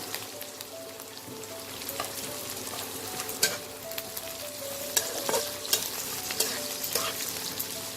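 Crushed garlic frying in oil in a pan for a Bengali fish head muri ghonto, a steady close sizzle with occasional stirring clinks and scrapes, no talking.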